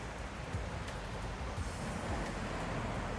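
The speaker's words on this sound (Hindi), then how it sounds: "ये हाईवे है, इधर से उसकी आवाज़ आ रही है।" Highway traffic near the C&O Canal and Potomac River at Brunswick, Maryland, a steady broadband roar of passing vehicles carrying on without a break, moderately loud and alone with no one talking.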